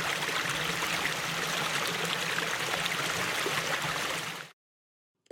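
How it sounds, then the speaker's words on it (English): Natural spring water running and bubbling down a hillside near the ocean at Bar Harbor, Maine, a steady close rushing trickle with no voices, ending abruptly in silence. "you could hear the running water bubbling down the hill"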